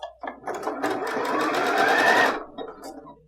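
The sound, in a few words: sewing machine stitching a fabric scrunchie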